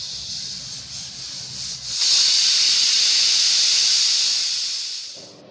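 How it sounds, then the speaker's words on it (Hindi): A pressure cooker holding cham cham lets off steam, first a faint hiss and then a loud, sustained whistling rush that holds for about three seconds before it fades out. "एक सीटी आ चुकी है।"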